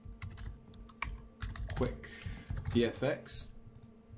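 Typing on a computer keyboard during a Cinema 4D text-animation session, a quick run of light key clicks close by, partly under someone speaking.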